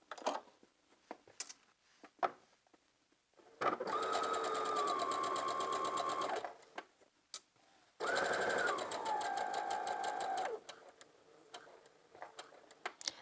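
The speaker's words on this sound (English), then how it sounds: "I'm starting with a basting stitch." A domestic sewing machine runs a basting stitch on a lined pencil skirt in two sustained whirring bursts of a few seconds each, close and clear, separated by quiet pauses with faint clicks and handling noises.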